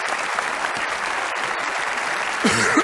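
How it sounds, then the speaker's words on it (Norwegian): Steady applause from a conference audience fills the whole stretch, dense and even, growing slightly louder near the end. "Så gi en stor applaus til Erik Solheim, visegeneralsekretær."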